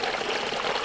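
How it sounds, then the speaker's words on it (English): Water running out of the open drain plug of a ram pump, a steady close splashing stream that flows without pause. "Now I've got the drain plug open from wherever I drained this over the winter time."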